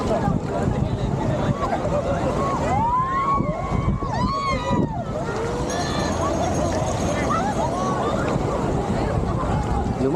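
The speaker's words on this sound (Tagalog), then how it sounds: "Lumalakas ang alon." Strengthening sea waves around a boat on open water, a constant rushing wash and wind noise, with people shouting over it and several whistling or squealing tones rising and falling in the middle.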